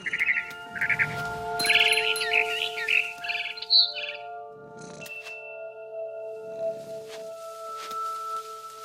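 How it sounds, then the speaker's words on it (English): A barn swallow chirps in the video game What Remains of Edith Finch, with short bird calls in the first few seconds over a steady background of sustained game music tones. "Then I heard chirping outside my window. It was a barn swallow going back to her nest."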